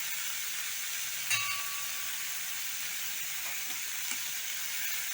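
Fenugreek leaves sautéing in a pan for methi matar malai make a faint, steady sizzle and hiss, with a single light clink early on and no talking.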